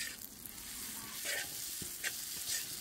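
Pad thai rice noodles fry in plenty of oil while being stirred quickly, giving a brief, continuous sizzle with a few soft spatula knocks and no voices.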